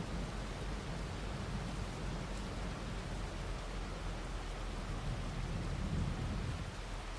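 Steady rain falls in the Farming Simulator 22 farming game, a dense unbroken hiss that stays even throughout and has no voices over it.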